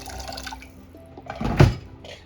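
Water is poured onto jeera rice in a pressure cooker, a short close splash and gurgle that swells briefly in the middle over faint background noise, with no talk.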